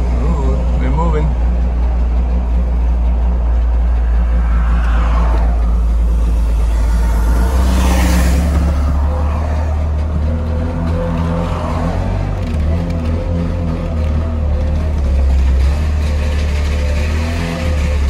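A Trabant 601 car rumbles with a low, loud engine drone as it pulls away and drives on steadily, with people talking inside the cabin over the noise.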